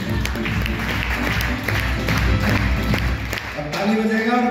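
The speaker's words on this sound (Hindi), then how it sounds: "एक जोरदार तालियां होनी चाहिए।" Audience at a stage event clapping to welcome a speaker, dense sustained applause from a crowd with voices mixed in and a tonal sound rising near the end.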